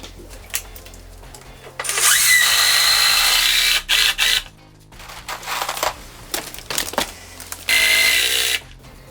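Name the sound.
drill driving screws into wall floor plate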